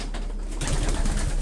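Pigeons in a loft give soft, low cooing, a faint murmur at first that swells into a fuller, nearer burbling of coos.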